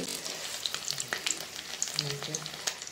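Small shrimp fritters mixed with ginger, garlic, coriander, chilli, salt and turmeric crackle as they fry crisp in a home kitchen pan. A steady close sizzle is broken by light pops and occasional stirring scrapes, with no talking.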